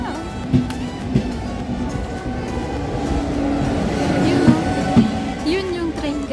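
A train rumbles steadily past close by, its low drone broken by a few soft periodic clacks and brief squeals over about six seconds, with no talk.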